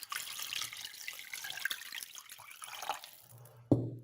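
Water poured over tuna pieces in a pot, a continuous splashing trickle at close range that fades slightly, ending with a sharp knock of the container.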